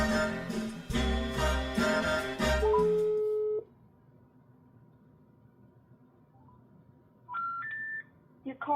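Phone line sounds from a call to the Microsoft US activation hotline: music plays, then a steady held tone, a long stretch of faint line hiss, and a rising sequence of loud beeping tones near the end.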